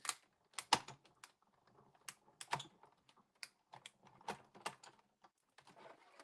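Scissors cut paper letters for Christmas cards, close up, in a run of crisp, irregular snips and rustles with short pauses between cuts and no talking.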